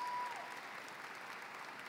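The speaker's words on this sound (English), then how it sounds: "Give these wonderful students a round of applause." Sustained applause from a large graduation audience at a high school commencement, steady dense clapping throughout, starting slightly louder and then holding even, with no talk over it.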